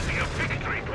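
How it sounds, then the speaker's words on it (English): An airburst barrage from artillery in Company of Heroes 3 rumbles and crackles as a dense, loud wash of blasts. It lasts about a second without a break. "Oh, the airburst barrage coming in."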